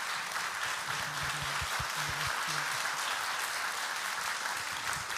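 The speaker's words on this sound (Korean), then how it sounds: "우리 큰 박수로 환송하도록" A church congregation at a Sunday service claps in a steady, even wash of applause, with a voice speaking briefly over it partway through.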